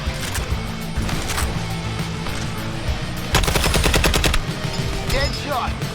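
Rapid automatic gunfire and single shots crackle through loud video game combat in Suicide Squad: Kill the Justice League, with bursts of machine-gun fire over a busy background of effects.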